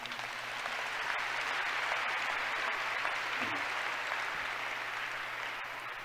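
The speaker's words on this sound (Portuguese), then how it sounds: "Vamos aplaudir a palavra do Senhor." A church congregation applauds during a sermon in a continuous, even wash of many hands clapping, moderately distant and steady throughout, with faint low crowd murmur beneath.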